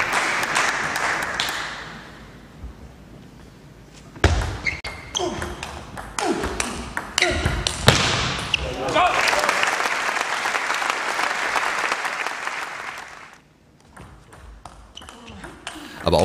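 Crowd in the Rote Werderhalle, a Werder Bremen table tennis arena, with applause and cheering swelling over a hall ambience and sharp ball pings, while a commentator talks over it.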